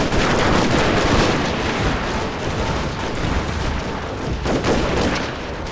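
Dense, continuous first-person gunfire in a large-scale war video game, with rapid volleys and booming reports layered over one another, loud and sustained with no pauses.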